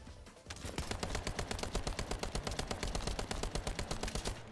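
Rapid automatic gunfire from a weapon in the shooter game The First Descendant rattles out in a fast, even stream of shots for several seconds, with no one talking.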